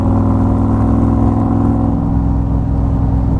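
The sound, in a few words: V8 engine side-pipe exhaust revving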